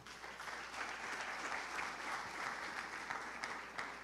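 Congregation applauding in church, a continuous dense patter of many hands clapping together, even and sustained, heard at a distance at low level.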